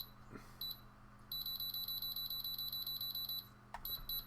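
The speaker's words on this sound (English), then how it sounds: "You hear that little double beep?" High-pitched electronic beeps from a small RC servo programmer sound faintly over a steady hum: a short burst, then a long run of rapid pulses, then another brief beep.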